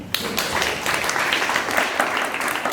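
A congregation at a memorial service claps in dense, sustained applause from many hands in a reverberant room, steady throughout.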